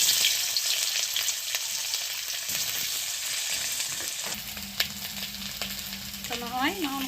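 Potatoes fry in hot oil in a home kitchen, a steady close crackling sizzle with occasional stirring, and a brief voice near the end.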